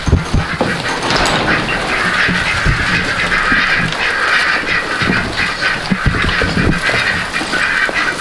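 Ducks quacking in a busy flock around a backyard pen holding ducklings, a steady overlapping chatter of honks and quacks close by with no voices.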